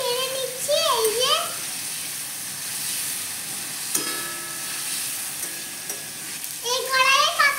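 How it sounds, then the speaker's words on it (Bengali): Pasta with tomato, onion and chilli sizzles and is stirred in a wok, with scraping and frying hiss running throughout. A voice talks over it at the start and the end. "তো আমি নেড়ে নিচ্ছি"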